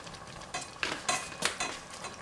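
Beans are stirred into a pot of simmering Italian sausage black bean chili, soft scraping and wet stirring strokes with light sizzle, close and moderately quiet, no talking.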